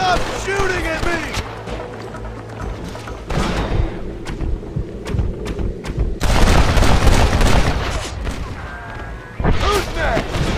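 Gunfire in the video game Red Dead Redemption: repeated booming shots and heavy thuds crack out irregularly amid shouted voices and game ambience, some bursts close and loud.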